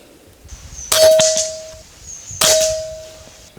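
Two PCP air rifle shots strike Q-Shot metal plinking targets about 1.5 seconds apart, each giving a sharp close clang followed by a short ringing metallic tone that fades.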